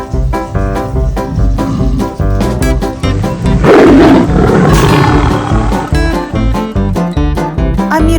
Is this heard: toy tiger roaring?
yes